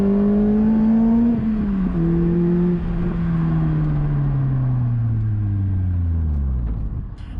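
A Lotus Elise R sports car drives along a road, its engine droning steadily close by with a low, gradually falling pitch as it eases off, continuous and loud with no voices.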